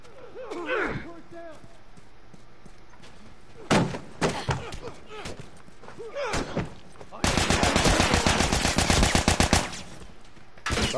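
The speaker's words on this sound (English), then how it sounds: "Assault rifle." Assault rifle gunfire in The Last of Us multiplayer, with scattered single shots and short bursts early on, then a loud sustained rapid-fire burst near the end, with voices talking over parts of it.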